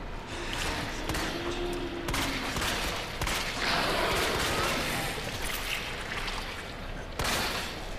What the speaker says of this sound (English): Enjoy my shots at ya.